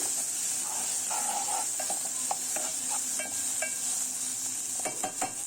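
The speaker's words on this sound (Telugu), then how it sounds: "సన్నగా తరిగి పెట్టుకున్న మెంతికూర కూడా వేసుకోవాలండి. దాన్ని కూడా అంతా ఒకసారి కలుపుకోవాలి." Chopped fenugreek leaves and garlic stirred in a frying pan over steady sizzling, with soft scraping and light utensil clinks scattered through, close and continuous with no voices.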